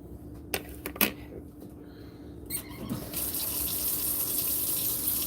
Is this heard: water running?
yes